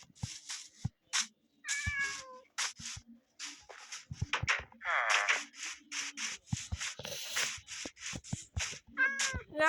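Repeated meows from cats in Minecraft, several short distinct calls spaced irregularly across the stretch, some longer and wavering, clear and fairly close with a few soft shuffling sounds between.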